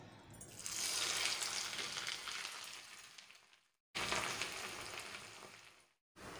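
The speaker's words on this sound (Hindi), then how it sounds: "अब मैं इन चनों को इसमें फ्राई कर लेती हूँ।" Chickpeas frying over medium heat in hot oil in a kadhai until crisp, a loud, bright sizzle that swells, fades and then cuts out twice in brief gaps before resuming.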